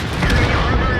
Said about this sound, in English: shooting whenever my gun lets me